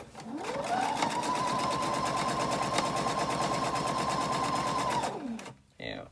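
A sewing machine runs steadily for about five seconds, stitching a quarter-inch seam on an Americana quilt block, its fast even needle rhythm winding up, holding a constant hum and then slowing to a stop, close by.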